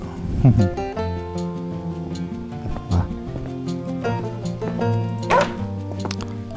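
A few short dog barks and yips in a video game pop out over steady, tuneful background music, with some voice sounds mixed in.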